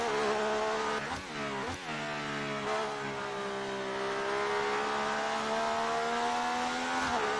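Classic car engine racing in the F1 2018 video game, a loud steady high-pitched drone held throughout with brief dips and revs as it shifts, no talking.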